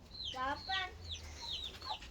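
Chickens cluck softly in a henhouse where hens have laid eggs, a few short calls coming close together at low level over a faint steady background hum.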